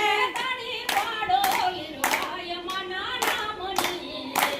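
Hands clap in a steady beat along with a Gujarati devotional bhajan, several bright sharp claps spaced about a second apart, ringing over a sustained sung melody with accompanying music.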